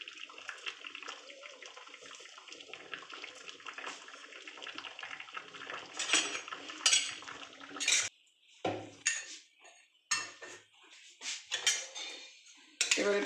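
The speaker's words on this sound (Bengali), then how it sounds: "এবার এটাকে নাড়াচাড়া করে আমি একটু ঢেকে রাখবো।" A spoon scrapes and clinks against a metal cooking pot as Bengali shukto is stirred after ghee is added, with a steady running-water background for several seconds, followed by irregular, close, sharp clattering knocks.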